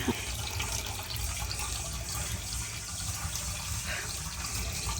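Water pours steadily from a pipe drawing from a deep village well, a continuous rushing splash with no breaks, close and moderately loud.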